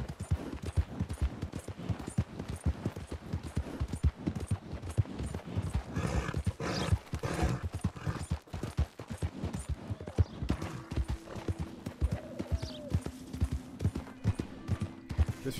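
Horse hooves clip-clop in Red Dead Redemption 2, a dense run of rapid, fairly near hoofbeats throughout, mixed with game noise and a sustained tone later on.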